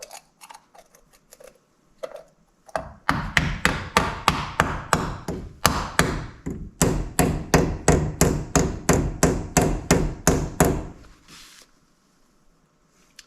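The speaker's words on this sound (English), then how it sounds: "we're just going to use the rubber mallet to tap this on" A rubber mallet taps a front wheel bearing hub assembly into place on a 4WD 2003 GMC Sierra: about twenty sharp, close knocks in a steady, even rhythm, ending in quiet.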